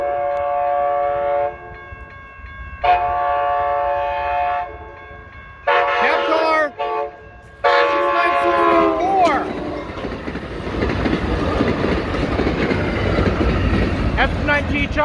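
An Amtrak California San Joaquin passenger train blows its horn in several long and short blasts at a grade crossing, then rumbles past with rising rail noise; faint voices in the background.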